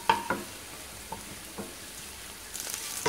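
Garlic fries golden in oil with a soft, steady sizzle, punctuated by several sharp stirring clicks of a utensil against the pan, close and fairly quiet.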